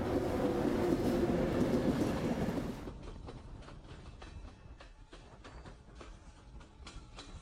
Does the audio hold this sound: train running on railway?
yes